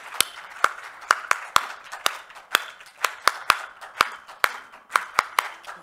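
Audience at a three-day Hindon festival claps in a slow, loose unison, sharp distinct hand claps landing roughly twice a second over a faint background murmur.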